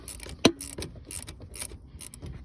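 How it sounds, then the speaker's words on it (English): A ratchet tightens a 13mm bolt on the steering of a 2009 Ford F150, giving one sharp metallic click followed by a run of quieter, uneven clicks and rasps close by. "go ahead and put your 13mm bolt in and tighten it down"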